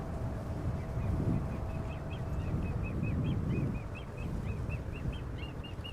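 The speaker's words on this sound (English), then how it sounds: "The little grebe making an awful lot of noise." A little grebe gives a rapid run of high, repeated trilling calls over a low, rumbling background drone at an airport.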